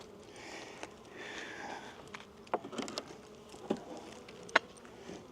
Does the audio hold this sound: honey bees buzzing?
yes